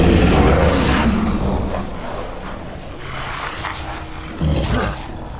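A monster in Resident Evil Village lets out a loud, deep roar that fades and then swells again briefly near the end, close and dominant with no speech.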